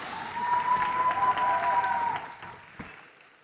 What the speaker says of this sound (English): round of applause, please, for Carlos